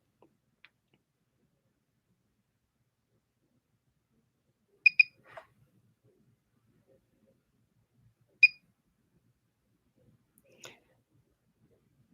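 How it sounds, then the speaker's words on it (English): A microcurrent facial device gives short, faint electronic beeps that count off the treatment: a double beep, then single beeps spaced a few seconds apart, with near-silence in between. "The beeps are just counting it off."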